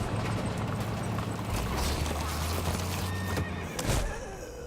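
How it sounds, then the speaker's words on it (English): Horses in The Walking Dead: A New Frontier video game, with hooves clip-clopping and thudding in a fast run and a loud whinny breaking out, all over low rumbling game ambience, with no talk. "Horses versus the undead."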